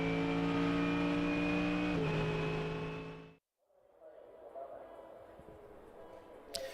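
A GT race car finishes a lap of Fuji Speedway with a loud, steady engine drone and a gear shift around two seconds in, cutting off abruptly before quieter, rumbling ambience takes over.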